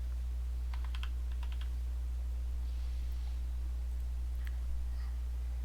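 Quiet typing on a computer keyboard, with short bursts of clicking keystrokes spread across the clip over a constant low electrical hum.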